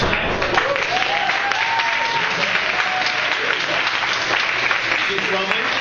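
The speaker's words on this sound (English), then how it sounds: "if everyone would quickly give a round of applause for Cassandra" A bar crowd claps for the bartender in a steady burst of applause, with voices, whoops and chatter mixed in throughout.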